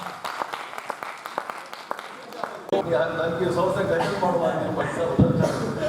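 Scattered audience clapping at a Hindi kavi sammelan poetry gathering thins out after a few seconds, and a voice then begins speaking over the room.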